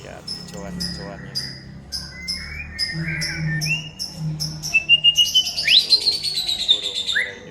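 A murai songbird singing after feeding, bright varied whistles and rapid chirping phrases close by, growing louder and busier toward the end.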